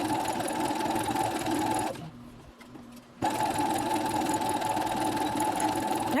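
A home sewing machine stitches down a shirt yoke at the shoulders, running in a steady, loud mechanical whir that stops for about a second before starting again and running continuously.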